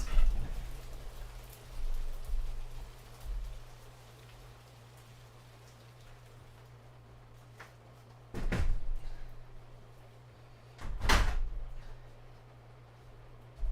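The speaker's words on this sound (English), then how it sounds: "Can you hear the rain?" Rain falling outside, a faint steady patter under a low constant hum, interrupted by a few sharp thuds like doors being shut.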